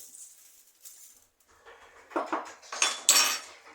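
Light clattering and clinking of cut potato and zucchini pieces dropping onto a metal baking tray, a few quick bursts growing louder toward the end, with no talking.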